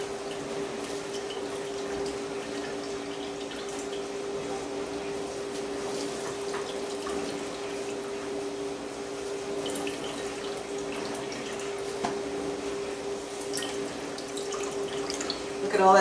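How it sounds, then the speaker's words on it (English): Liquid from grated cucumber pressed through a cloth, a steady trickle and drip into a bowl running continuously with a faint hum beneath it. "I'm straining the cucumber in the same cloth that I used earlier to strain the onions to get as much of this liquid out"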